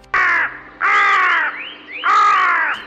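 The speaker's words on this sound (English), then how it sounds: "weasel, carrion crow," A carrion crow gives three loud, harsh caws in a slow, even rhythm, close by and alone.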